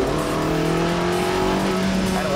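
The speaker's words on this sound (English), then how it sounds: "you can actually hit the kick down button, which will fire up the engine" Petrol engine of a plug-in hybrid car starting up on kick down, heard as a steady, close engine drone with rising tonal harmonics as the revs climb.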